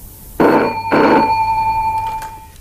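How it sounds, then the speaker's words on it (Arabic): Two long bursts from a ringing telephone sound close and loud, in a domestic setting from an Egyptian TV drama; a steady tone lingers between and after the rings. "تليفون يا سعادة الباشا."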